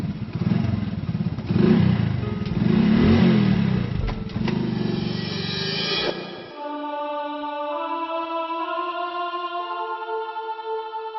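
A motorcycle engine rumbles and revs loudly with some clattering, then drops into a steadier, smoother idle drone for the rest of the stretch.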